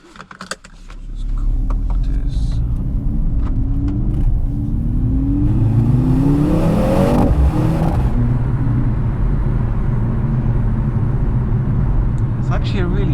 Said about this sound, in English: Actually a really interesting sound. It doesn't sound like a typical 2-litre engine.